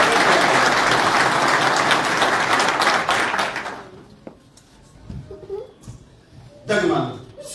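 An audience at a gathering applauds in a dense, steady burst of clapping that fades out midway, followed by quieter room sounds, a chuckle and scattered noises.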